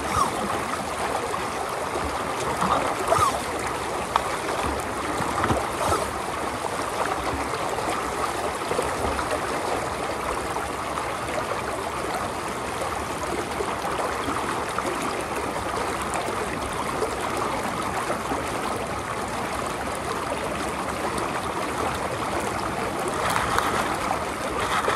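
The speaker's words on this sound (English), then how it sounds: "Power pumping." A pump runs steadily beside a stream, drawing up water and bedrock gravel for gold panning, making a continuous loud rushing, gurgling wash that barely changes throughout, with no speech.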